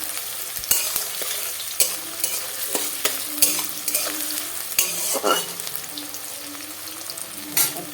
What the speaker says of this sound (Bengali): এটা আমি দিলাম তেলেতে ভালো করে নেড়ে নেড়ে ভেজে নেবো